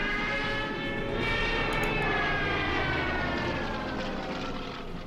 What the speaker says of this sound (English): And the Stuka will continue to bomb